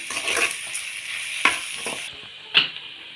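Onions sauté in a pan with turmeric and rock salt, giving a steady moderate sizzle broken by a few sharp stirring scrapes.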